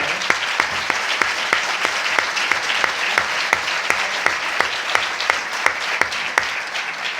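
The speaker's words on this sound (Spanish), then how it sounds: "un aplauso me parece para todos los que están acá" An audience at a flat-earth conference in Barcelona applauds steadily, a dense, even clatter of many hands filling the room, with occasional sharper claps standing out above the crowd.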